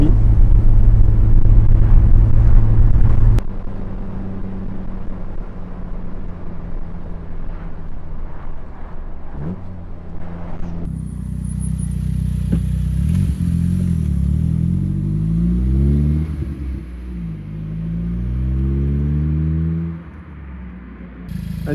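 A 2018 Morgan Plus 4 GDI sports car engine running, a continuous low rumble that shifts pitch as revs climb and fall through the gears, with no voices over it.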